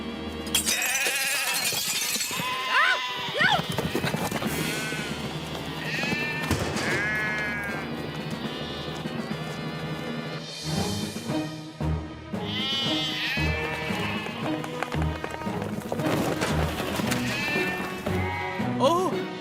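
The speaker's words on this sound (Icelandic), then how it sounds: "Lítið nú á, stórkostlegu sirkuskindurnar mínar." Cartoon circus sheep bleating repeatedly in a busy animated scene, their high wavering cries rising over music and character talk throughout, with a brief crash or breaking sound partway through.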